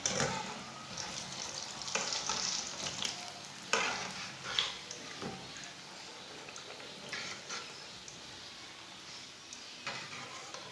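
Moong dal pakoras frying in hot oil, a steady close crackle and sizzle with occasional louder bursts and stirring clinks throughout.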